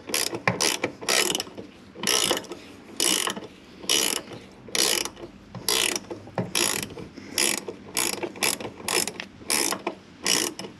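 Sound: ratchet removing 12 mm bolts on Honda Odyssey sliding door

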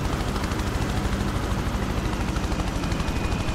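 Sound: helicopter flying in the video game Prototype

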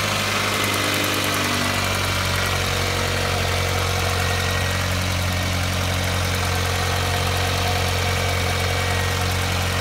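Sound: Toyota Starlet engine running warmed up

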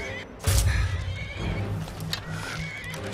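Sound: horse neighing in a video game

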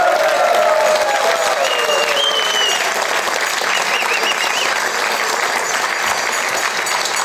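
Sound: studio audience applause

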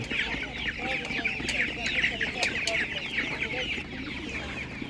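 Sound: Leghorn hens clucking at an animal market

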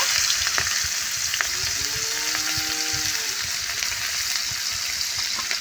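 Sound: onions frying in fish-frying oil for curry

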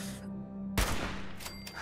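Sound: gunshot headshot in video game Fallout 76

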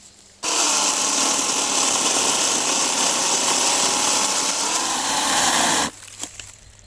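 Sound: AL-KO CS 1825 cordless chainsaw cutting firewood

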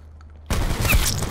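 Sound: shotgun blast in Call of Duty: Black Ops 4 video game

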